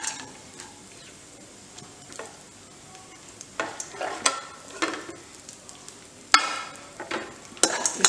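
Chopped almonds sizzle in ghee in a pan over a low gas flame and are stirred repeatedly with a spoon, giving a soft steady frying hiss broken by sharp scraping clicks that grow busier toward the end, with no talking.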